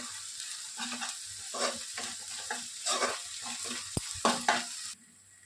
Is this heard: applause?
no